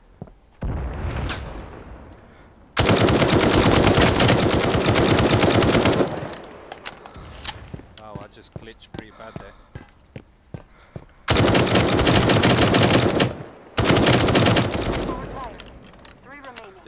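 Gunfire in the game Firewall Zero Hour: long, loud sustained machine-gun bursts alternating with shorter scattered shots and quieter gaps, close and dense, with no speech over it.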